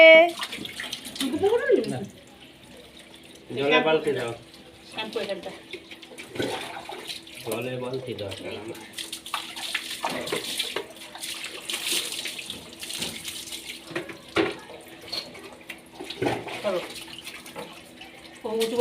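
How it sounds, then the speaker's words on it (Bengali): Running water splashes while a child is bathed, with intermittent adult talk over the steady flow. "এই দিচ্ছে পাপা চুঙ্কু পুঙ্কু ধুয়ে দিচ্ছে"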